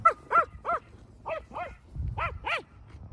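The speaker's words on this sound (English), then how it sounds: "but this girl just loves to bark." A female collie barks repeatedly, a run of about eight sharp, close, fairly loud barks in an uneven rhythm with short gaps, alone without talk.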